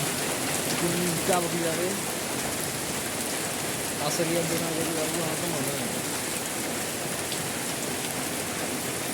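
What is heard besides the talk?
heavy rain falling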